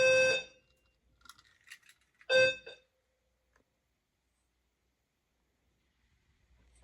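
A fire alarm system goes into full alarm with two loud bursts of harsh, buzzing horn tone separated by a pause, with faint clicks and rattles in between, close and otherwise quiet.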